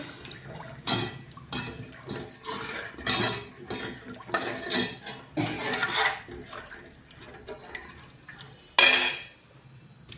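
Tamarind being squeezed and dissolved by hand in a bowl of warm water for sambar, with wet sloshing, splashing and clinks of the vessel in irregular bursts, close and fairly quiet.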